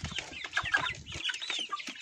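Young Livenskie and Russian crested chicks, just moved outdoors, cluck and chirp in a scattered run of short, bright calls, fairly close and with no talking over them.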